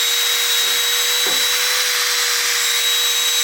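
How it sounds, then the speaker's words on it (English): A drill fitted with a wire brush spins against a rusty surface, giving a steady high-pitched whine with a constant tonal hum and brief grinding touches, close and loud, with no voices. "These are the brushes like this. You can put it on your drill."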